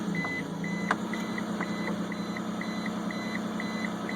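A 2001 Isuzu Rodeo engine with a dirty EGR valve idles roughly with a steady low hum, close by. A faint repeating electronic beep chimes over the engine throughout.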